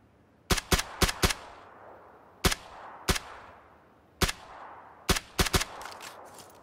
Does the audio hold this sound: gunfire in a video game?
yes